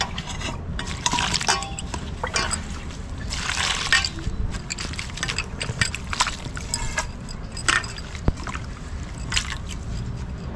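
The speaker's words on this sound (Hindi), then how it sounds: "अब इसको हम साफ पानी से कई बार धो लेते हैं।" Fenugreek leaves are rinsed in clean water, with close, uneven bursts of splashing and sloshing, trickles and drips against a steady background and no talking.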